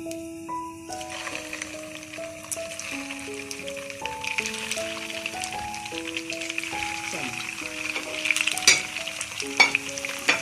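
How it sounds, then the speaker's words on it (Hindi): Chicken kebab gravy frying in a pan, sizzling steadily while a spoon stirs and mashes it, with a scraping rattle; a melodic tone plays throughout. "इसको मैं चमचे की मदद से हल्का हल्का इसको मसल लेती हूँ, अच्छे से भून लेंगे।"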